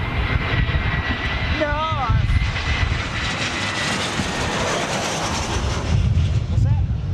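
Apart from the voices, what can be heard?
Airbus A380 jet airliner flying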